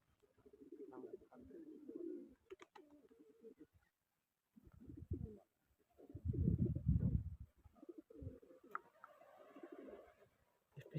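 Pigeons coo in soft, low phrases with breaks between them. They are mixed with nearby voices and handling noise, and there is a louder low rumble partway through.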